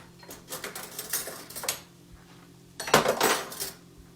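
Ordinary metal spoons clink and rattle against dishes in a home kitchen, two short flurries of bright, close jangling separated by a brief pause.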